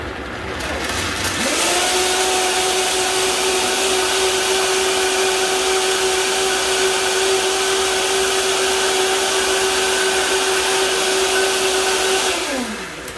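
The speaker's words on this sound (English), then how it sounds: "we're using the wonderful Vitamix blender, which is very powerful" A powerful Vitamix blender spins up, runs at a loud steady high-pitched whine for about eleven seconds, then winds down, with no talking over it.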